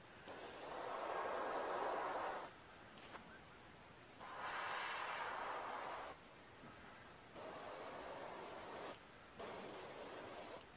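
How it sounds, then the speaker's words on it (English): A Paasche Talon top-cup airbrush sprays paint while velvet antlers are repaired, giving four soft, faint bursts of airy hiss separated by short quiet pauses. "The airbrush I'm using is the Pache Talon. It's a airbrush with a top located cup."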